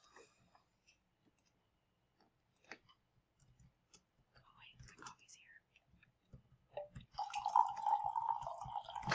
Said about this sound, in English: I'm really just pouring coffee.